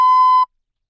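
A recorder plays a steady B, a clean whistly tone already sounding and ending abruptly within half a second, alone with silence after.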